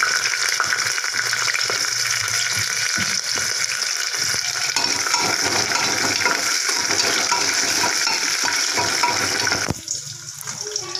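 Steady loud sizzling of onions, dried chillies and bay leaves frying in oil, a dense hiss throughout with occasional stirring clatter and a brief drop near the end.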